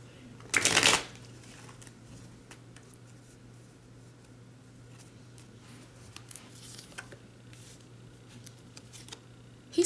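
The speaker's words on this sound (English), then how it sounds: "Let's give it one more shuffle." Tarot cards are shuffled once in a quick, crisp riffle near the start, followed by quiet room tone with a few faint taps and handling sounds.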